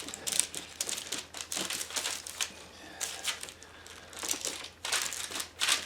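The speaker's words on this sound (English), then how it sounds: "fold the dough over and you push down on it" Dark rye bread dough is pushed and folded by hand on a floured surface, producing soft, uneven bursts of crinkly, papery rustling in irregular rhythm, close and quiet, with brief pauses between strokes.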